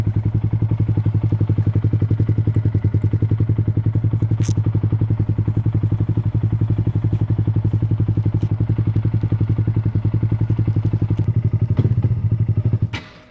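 2023 Honda Grom motorcycle on a test ride, its small single-cylinder engine thumping in a steady, even rapid pulse, close and loud throughout before cutting off at the end.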